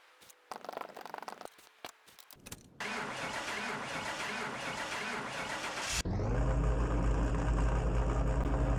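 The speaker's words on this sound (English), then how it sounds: "the Alfa Romeo has just started after topping up all the fluids" A salvage Alfa Romeo, just refilled with fluids, cranks with a few uneven turnovers, then catches and runs with a loud, steady, slightly rough engine roar that jumps in level as it settles into a strong idle.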